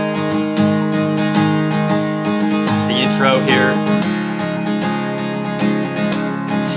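Acoustic guitar strummed in a steady, full-bodied pattern through the intro of a worship song, close and loud throughout, with a brief spoken phrase near the start.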